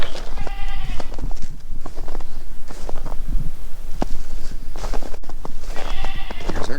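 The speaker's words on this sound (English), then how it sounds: "Here's our goats." Goats bleat in a snowy winter paddock in New York's southern tier snow belt, a few calls near the start and end over steady outdoor noise and scattered thumps.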